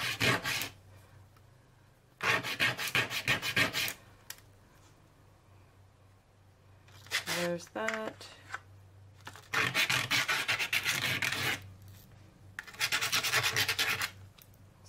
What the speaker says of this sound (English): I'm just going to kind of sand them